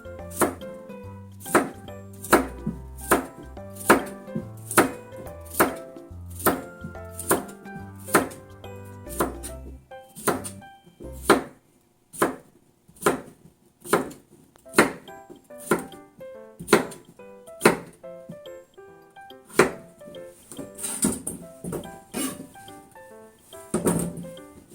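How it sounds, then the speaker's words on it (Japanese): A knife chops cucumber into rough chunks on a board, sharp close thunks in a steady rhythm of well-spaced cuts repeating for a long stretch. "切りますね。 乱切りにします。"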